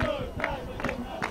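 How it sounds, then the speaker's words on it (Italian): Football supporters chant in the stands of a stadium during a Cosenza match against Silana. Their massed voices come from a distance in a continuous, rising and falling roar with a few louder surges. "si fanno sentire i tifosi dell'Abruzio"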